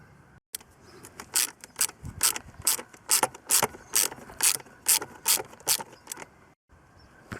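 A ratchet on a flexi connection loosening 10mm carburettor nuts on a Lotus Excel, a quick run of about a dozen sharp clicking strokes in steady rhythm, close and clear, with no talking.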